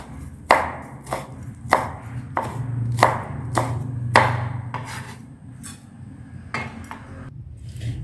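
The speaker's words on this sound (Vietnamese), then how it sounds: "Ớt các bạn sẽ cắt ra cho mình." A knife chops chili peppers on a cutting board, about a dozen sharp, close knocks in an uneven rhythm, loud and alone with no talking.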